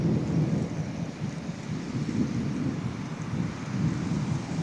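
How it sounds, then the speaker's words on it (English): Heavy rain pours down during a thunderstorm. A dense, loud roar of rain mixes with low rolling thunder that swells and fades across the few seconds. "Wow, that rain is hitting hard."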